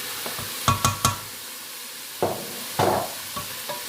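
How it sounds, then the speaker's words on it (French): Chopped bell peppers hitting a hot pan with garlic, a steady sizzle broken by a few sharp stirring scrapes and clatters, fairly close, with no talking. "On va rajouter les poivrons que j'ai coupés."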